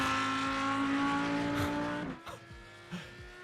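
Loud Audi GT3 race car engine in iRacing from an outside view, holding high revs before backing off with a downshift, followed by short tire chirps and blips as it slows.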